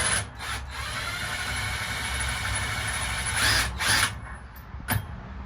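A power drill runs in a clutch bolt with a continuous close whirring drone, ending in a few short bursts and clunks.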